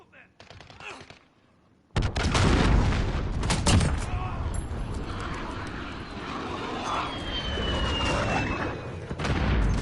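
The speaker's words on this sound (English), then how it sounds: "Allied cruise missile away." Cruise missile launch and explosion in Call of Duty Modern Warfare, a sudden loud roaring boom that cuts in after quieter game sounds and rumbles on steadily, with aircraft noise and scattered gunfire in the mix.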